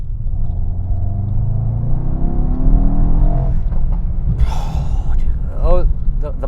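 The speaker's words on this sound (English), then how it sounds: "I'm gonna floor it, 50 kilometers an hour." A 2021 Mercedes-AMG E63S Wagon, 600 horsepower, pulls hard at full throttle from 50 km/h in sport mode, a loud rising engine rumble followed by sharp exhaust pops and crackles near the end, with a voice speaking over it.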